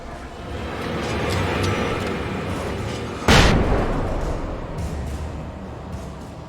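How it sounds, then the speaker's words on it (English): A flashbang going off in the Alan Wake video game: one sharp, loud burst rises suddenly out of a steady rumbling game background and then fades back into it. "Two flashbangs."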